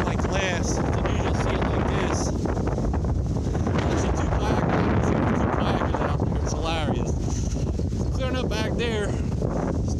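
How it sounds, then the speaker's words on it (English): Strong gusty wind roars across the microphone throughout over a lake after a storm, with a person talking at moments beneath the rumble. "in here it's quite windy."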